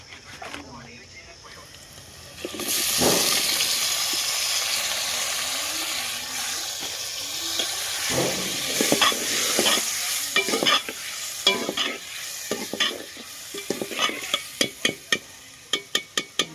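Tomatoes sizzle and hiss steadily in a hot pan, with a spoon scraping and clinking against it in quick bursts toward the end.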